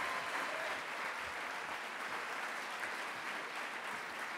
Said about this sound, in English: please join me in welcoming Dal Oceanographer and Canada Excellence Research Chair, Dr. Doug Wallace